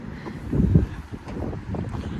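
Cold wind blows outdoors, buffeting the microphone in uneven low rumbling gusts that swell and ease over a couple of seconds, with no voices.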